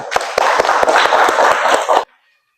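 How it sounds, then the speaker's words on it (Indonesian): Schoolchildren in a classroom burst into dense, energetic applause for about two seconds, close and loud with sharp rhythmic claps on top, then it cuts off abruptly into silence. "Beri tepuk tangan untuk kalian semua"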